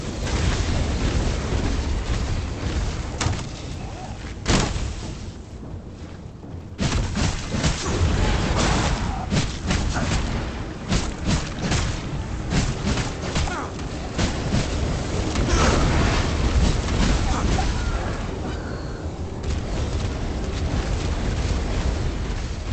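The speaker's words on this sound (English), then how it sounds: "that guy spewing fire is a problem." A fire-spewing enemy in V Rising unleashes a loud, continuous roaring blast of flame, thick rumbling bursts with sharp cracks throughout, dipping briefly before surging again, dense battle effects throughout.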